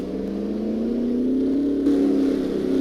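A Formula racing car's engine revs at the 2001 New Zealand Grand Prix, a steady, loud, buzzing drone whose pitch climbs gradually, close and continuous for about three seconds with no talk over it.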